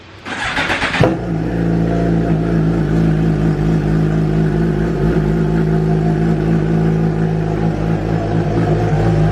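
A 2018 Suzuki GSX-R1000 motorcycle cold-starts with a brief starter whir, then catches into a loud, steady high idle that holds close and constant.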